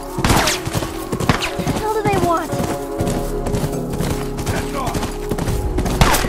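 Rapid hoofbeats from a galloping horse in The Last of Us Remastered run throughout, mixed with game sound effects, thumps and voices talking over them.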